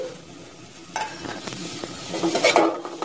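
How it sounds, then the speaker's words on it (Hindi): Potatoes frying with spices in a handi as they are stirred, a crackling sizzle that swells louder with repeated scraping strokes of a spoon against the pot, close by. "और इन्हें भूनेंगे। तो डालेंगे आलू"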